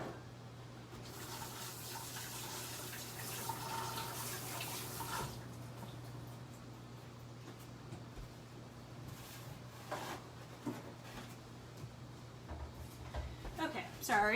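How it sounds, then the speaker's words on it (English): Hands being washed under a running tap at a kitchen sink while making bagels, a steady broadband rush of water that runs continuously, louder at first and then thinner and splashier. "I'm just gonna wash my hands really quick."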